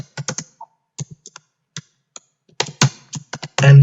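Python code being typed on a computer keyboard, sharp close key taps in quick bursts separated by short pauses, loud and dry with no talking.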